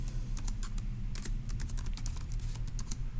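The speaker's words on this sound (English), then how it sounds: "So Let's go ahead and type that up in our notes in section D" Steady, rapid clicking of keys on a computer keyboard as notes are typed up while working through a Turing Machine logic puzzle, close and continuous throughout.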